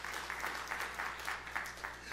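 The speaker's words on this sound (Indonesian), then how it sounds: "Tepuk tangan yang meriah untuk kemuliaan Tuhan" Church congregation applauding together, a steady, moderately loud patter of many hands clapping with slight pulsing swells, no speech over it.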